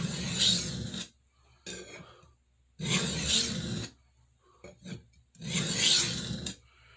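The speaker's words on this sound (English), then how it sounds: "I'm going to use this Atoma plate to bring a rough edge up" A santoku knife is drawn across a wet Atoma diamond plate with soapy water in three long, loud rasping strokes, separated by short pauses and lighter scrapes, with no talking.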